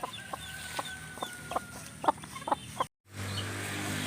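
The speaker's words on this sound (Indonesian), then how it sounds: "Ya, disambut dengan ayam." Chickens clucking in short scattered bursts nearby, a quiet coop background, then a brief cutout and a steady low hum.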